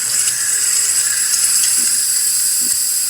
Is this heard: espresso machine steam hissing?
yes